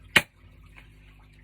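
A toy gel blaster firing a single gel ball: one sharp, close snap followed by quiet.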